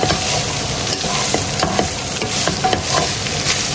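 White onion sautés in a hot pan for Filipino-style spaghetti, a steady close sizzle and fry with scattered crackles and occasional spoon-stirring scrapes throughout.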